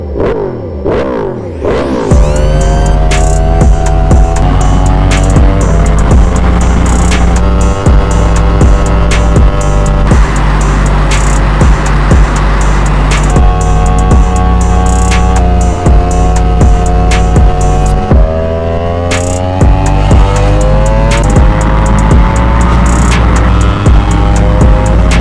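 A 2022 Yamaha R1 sport motorcycle in 60th anniversary colors roars while being ridden, loud revving with repeated rising pitch sweeps through gear changes over a constant engine drone, no talk.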